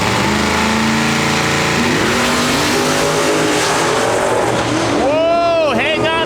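A Mustang and a Hellcat launch side by side at a drag strip with a loud roar of revving engines, rising pitch through the gears and a squeal of tires near the end, under a continuous wash of engine noise.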